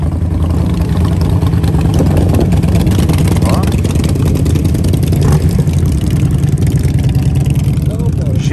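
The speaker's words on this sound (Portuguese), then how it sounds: "tem umas motos ali que vão passar, vamos ver" Loud, steady engine rumble fills the whole stretch, with motorbikes passing close by amid crowd noise and a brief spoken word at a classic car and motorcycle show in Rio.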